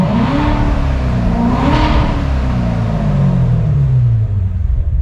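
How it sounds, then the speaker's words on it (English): Corvette Z06 V8 fitted with a Corsa exhaust revs up and then settles back. It is a loud, steady engine note that sweeps up and slowly falls away, with no talking over it. "We'll give you guys a rev here"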